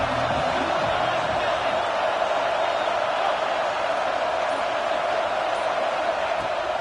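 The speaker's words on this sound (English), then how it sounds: "This crowd ready to make its presence known." A football stadium crowd roaring in a steady, dense wash of cheering noise, loud and unbroken throughout with no distinct individual voices.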